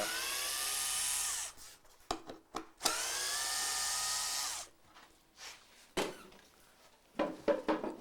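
A power drill unscrews a screw from a staircase skirt board in a shingle-style home, loud whirring bursts of a few seconds each separated by brief pauses, then shorter clicks and knocks.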